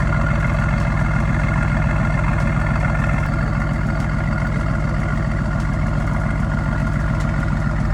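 A Mercedes-AMG V8 idles at a car meet, a loud, close, deep rumble that stays steady and continuous with no speech over it.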